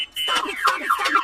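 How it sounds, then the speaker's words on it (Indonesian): A cartoon snail's shell blares a car alarm sound effect in an animated film, a loud warbling electronic siren with rising and falling pulses over about a second. "cangkangnya bisa mengeluarkan bunyi alarm mobil"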